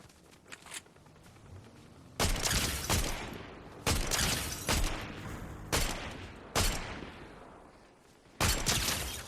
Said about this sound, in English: Gunfire up here.